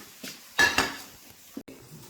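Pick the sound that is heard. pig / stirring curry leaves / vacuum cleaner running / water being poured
stirring curry leaves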